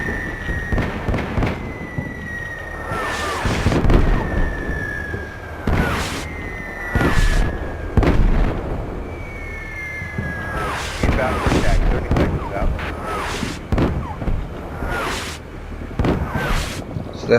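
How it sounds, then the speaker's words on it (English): Small 60 mm mortar rounds burst again and again in a Combat Mission Shock Force battle, sharp irregular explosions over a constant bed of noise with a few whining tones running through it. "they're quite small mortars, they're like 60 millimeters"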